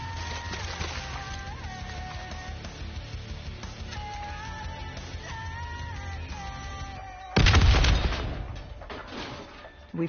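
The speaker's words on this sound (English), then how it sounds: "The explosion blocked our path." A loud explosion bursts in a war-themed PS4 video game cutscene, blocking the path of a breaching team. It hits late and sits over an ongoing musical score, then a lower rumble trails off.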